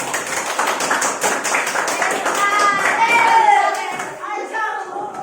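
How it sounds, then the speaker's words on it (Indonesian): Quick, crisp clapping for students after a classroom quiz rattles along for a couple of seconds before speech takes over and the claps thin out beneath it. "Tepuk tangan buat kalian semua."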